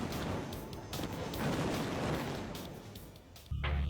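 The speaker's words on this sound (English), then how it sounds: "the artillery strikes have little effect on the North Vietnamese bunkers" Artillery strikes pounding North Vietnamese earth-covered bunkers in a wartime scene, heard as a dense, continuous rumble of blasts and gunfire that swells and fades, with a sharp, heavy boom arriving near the end.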